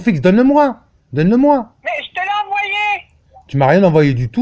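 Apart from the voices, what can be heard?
None of the usual background noises is heard.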